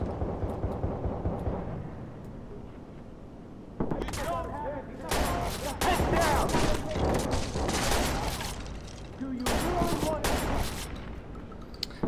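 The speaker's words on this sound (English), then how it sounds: "I don't like having just a shotgun." Shotgun fire in the video game Watch Dogs, several loud booming blasts in bursts with rattling impacts between them, close and heavy, with a voice talking in between the shots.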